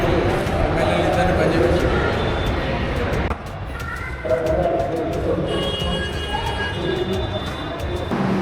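At Karimnagar railway station, a train rumbles loudly and close with a steady rolling roar, shifting partway through with faint high squeals and tones, while people talk nearby.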